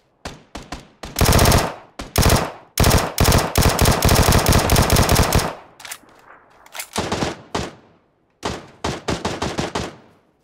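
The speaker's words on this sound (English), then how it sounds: "Somebody sniping." Repeated gunfire in PUBG, with sustained automatic bursts and sharp single sniper-style cracks, loud and close, coming in rapid clusters separated by brief pauses and a quieter stretch near the end.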